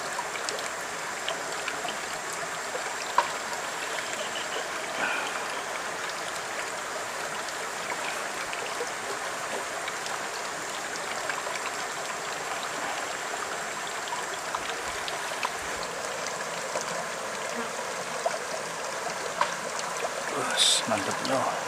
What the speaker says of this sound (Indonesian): Kemudian sambalnya nih kita cuci di sini.